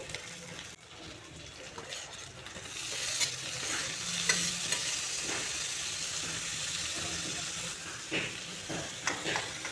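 Banana flower (mocha) frying with ground coriander, sweet cumin, ginger paste and turmeric in a pan, a steady moderate sizzle with stirring scrapes and occasional hissing bursts, no voices.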